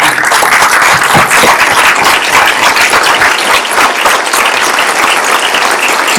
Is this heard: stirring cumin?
no